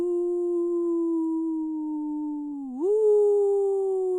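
Wolves howl in an audio fairy tale, a single steady, mournful tone that holds level, dips briefly, then swells slightly louder and continues, clear and alone with no talk.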